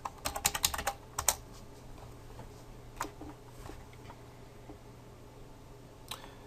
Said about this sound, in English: we just got to type in the name of the app